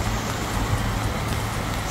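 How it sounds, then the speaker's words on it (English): Rain falls steadily on a street in Rheinfelden on a cold day, a continuous close hiss with no voices over it. "It is raining today and much colder than yesterday"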